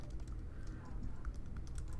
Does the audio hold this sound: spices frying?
no